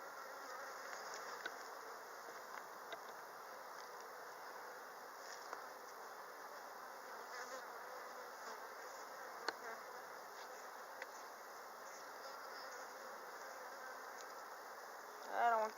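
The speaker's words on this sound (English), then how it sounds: "I don't want to catch bees." Honey bees buzz around an opened hive while the frames are pushed back together, giving a steady close drone with scattered clicks and knocks of handling and no talk.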